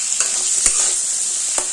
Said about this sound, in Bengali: গ্যাসের ফ্লেমটা লোতে রেখে কুলটা 2 মিনিট ভেজে নেব